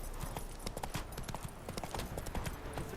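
Hooves of the horse Roach in Witcher 3 clip-clop quickly and steadily in a galloping rhythm, moderately close and fairly quiet, with no talk over them.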